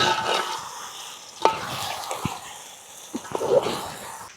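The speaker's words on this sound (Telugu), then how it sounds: "ఇప్పుడైతే చికెన్ని రైస్ని మంచిగా కలుపుకుందాం" Chicken and rice are stirred together in a pot for a Tamil Nadu style pulao, with soft scraping and a few sharp knocks of the spoon against the vessel over a faint sizzle.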